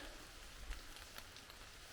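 Rain falls steadily on a forest floor and foliage in very wet weather, a soft continuous hiss with scattered faint drips, quiet and unbroken throughout.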